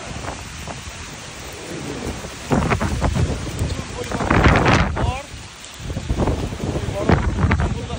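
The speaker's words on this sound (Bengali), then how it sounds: "দেখেন কালবৈশাখী কি ঝড় হচ্ছে।" A Kalbaishakhi nor'wester storm roars with strong gusting wind and rain, surging in loud broadband bursts that swell and fade over several seconds, with a voice faintly present.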